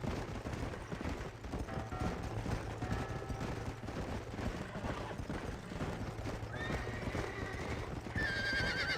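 Horses in the Red Dead Redemption video game, hooves clip-clopping steadily throughout with a clear whinny near the end, set against a busy layered game soundscape.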